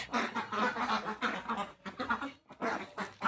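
A flock of native domestic ducks quacks continuously at close range, overlapping nasal calls in busy bursts with brief pauses.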